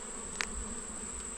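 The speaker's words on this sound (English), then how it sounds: "bees all over the place." Bees swarm around a hive outdoors, a steady close buzzing hum that carries through the whole moment, with one brief louder flare as an insect passes near.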